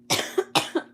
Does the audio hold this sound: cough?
yes